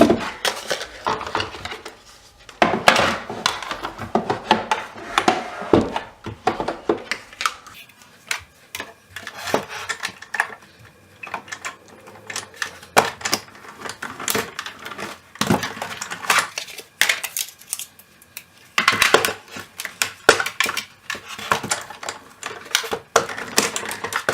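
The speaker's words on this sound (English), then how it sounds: "cut out 2 of these using your Big Shot. You want to cut out 2 of the smaller scallop frames." A Big Shot die-cutting machine cuts small scallop frames: close, loud mechanical clicking, clattering and grinding in uneven bursts as the handle is cranked and the plates are shifted.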